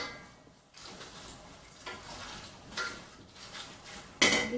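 Cardoon in a pot on the stove is stirred, with faint scraping and clinking of a utensil against the pot at intervals and a louder clatter at the end.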